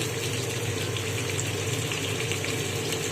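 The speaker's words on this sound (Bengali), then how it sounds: "সবগুলো এবার ভালো করে ভেজে নেবে।" Pumpkin and other vegetables fry in a pan for a Bengali sukto, giving a steady, close sizzle with a bubbling undertone that holds evenly throughout, with no talking.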